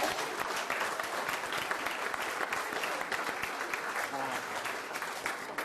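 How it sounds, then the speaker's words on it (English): An audience at a high school spring sports banquet for softball and baseball applauds the JV teammates, a dense, steady round of clapping lasting several seconds with a brief voice near the end. "Let's give a nice big round of applause for all our JV teammates."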